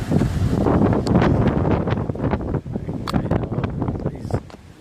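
Strong wind gusting outdoors beside recycling bins with lids blowing open, a loud continuous roar and buffeting against the microphone that drops briefly and then returns.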